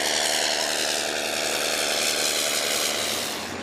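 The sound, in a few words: propeller airplane engine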